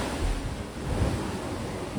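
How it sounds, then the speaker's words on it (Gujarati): Strong wind buffets an unshielded microphone on the coast at Dwarka during a fishing trip, a continuous loud rumbling roar with surf-like wash throughout and no speech. "માઇક નથી ને પવન બહુ છે"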